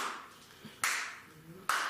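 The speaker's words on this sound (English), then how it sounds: "there's a man on the beach clapping" A man claps on a beach in a live theater performance, two sharp claps about a second apart standing out over a murmuring background with some voices.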